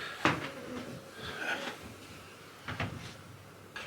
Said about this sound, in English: it is literally a floorboard squeaking and compressing